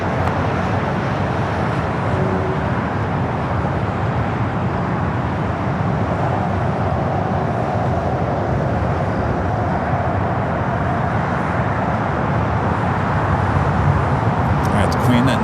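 A jet airliner bound for Tokyo Narita rolls for takeoff on runway 25 left at LAX, a loud, steady broadband engine roar that holds unbroken throughout.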